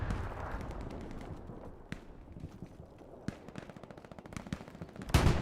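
Gunfire from the video game Hell Let Loose crackles at a distance, with scattered single shots and short bursts that build into faster, louder firing near the end.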